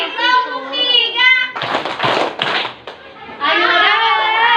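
Children's voices chant in a classroom activity between bursts of rhythmic hand clapping, with a loud broadband clapping section in the middle and talk before and after.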